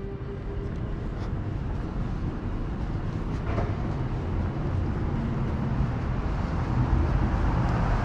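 A continuous low rumble of a train rolling past up close on 3rd Street in San Francisco, steady and loud throughout, with broadband roar and faint mechanical squeaks.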